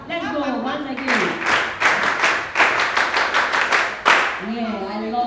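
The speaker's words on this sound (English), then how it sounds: "Clap for yourself." A crowd at a menstrual health campaign launch bursts into several rounds of loud clapping, with brief talk before and after the applause.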